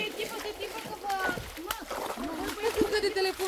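Footsteps wade through shallow water in a rocky gorge with a sandy bottom, sloshing and splashing close by in uneven bursts while people talk over the sound.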